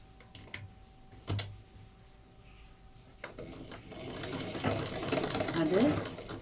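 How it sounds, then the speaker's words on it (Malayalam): Sewing machine stitching a beaded fabric piece, a steady mechanical whir with brief starts and stops, close and fairly loud, with faint talk under it. "ഇനി നിങ്ങൾ ഈ ബീഡ്സ് ഇട്ട പീസ് ഉണ്ടല്ലേ, ഇതിനെയും അതുപോലെ തന്നെ ഞങ്ങൾ സ്റ്റിച്ച് ചെയ്യണം"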